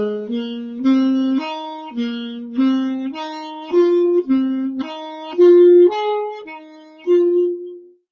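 A saxophone plays a short pentatonic scale motif, stepping through about a dozen clear sustained notes in a steady rhythm, close and loud with no talking.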